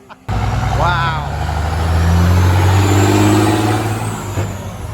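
A truck's engine revs loudly at a Memorial Day car show among American muscle cars, a steady low rumble that builds and holds, with a brief air-brake hiss near the start and people talking nearby.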